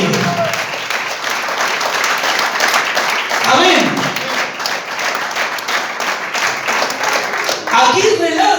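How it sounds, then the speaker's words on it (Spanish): Church congregation claps together during a sermon, a loud, sustained round of applause with voices calling out briefly near the start and end. "Aplaudan que vive."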